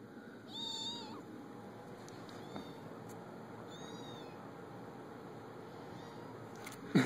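Kittens or cats give several thin high meows spread across the clip, faint against steady room hiss, with a brief louder bump at the end.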